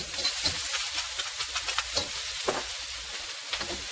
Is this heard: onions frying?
yes